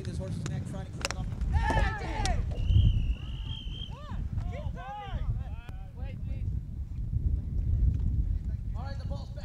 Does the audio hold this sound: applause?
no